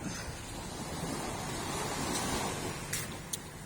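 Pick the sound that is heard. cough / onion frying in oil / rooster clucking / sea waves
sea waves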